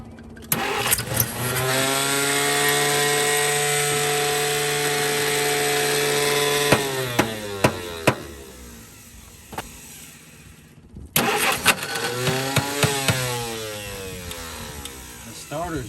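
A 1951 Studebaker engine cranks steadily on its starter for several seconds, pauses, then cranks again in a second loud, close burst, the starter disengaging as the engine tries to catch.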